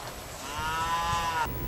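A cow lets out a single drawn-out moo lasting just over a second, clear and fairly close, over faint background noise.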